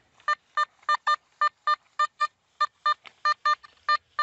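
A metal detector sweeping for buried treasure on an old hacienda gives a rapid string of about fourteen short, bright electronic target tones in an uneven rhythm, clear and close with nothing else around them.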